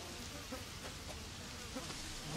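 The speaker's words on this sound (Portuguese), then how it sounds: "Fala sério, cheio de mosquito aqui." Insects buzzing in a weedy, overgrown area in Resident Evil 7, a steady, dense, fairly quiet hum that runs the whole time with no talk over it.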